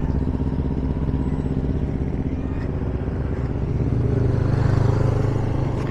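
Motorcycles escort a 44-km girls' road cycling race, a continuous, close engine drone with rattling that swells slightly louder toward the end.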